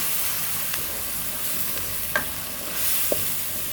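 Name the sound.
spice paste frying in pan for potato egg curry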